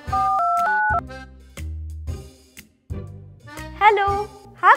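Telephone tones beep in short steady pairs, then a ringing trill, with someone talking in between.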